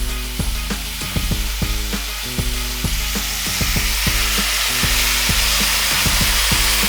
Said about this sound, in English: You're gonna want that butter to be almost caramelizing in there. And this is how you're gonna try your best to sear this bad boy.